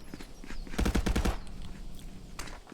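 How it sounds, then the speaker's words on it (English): A short, rapid burst of automatic gunfire in the VR shooter ContractorsVR, loud and close, with quieter scattered shots and movement around it. "Seeing Rintham shooting his friend."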